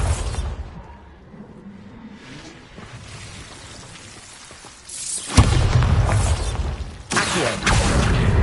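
In Hogwarts Legacy, a Bombarda spell explosion erupts as a loud, booming blast after a quieter stretch of rumbling game ambience, followed by a second heavy burst and sustained crackling debris.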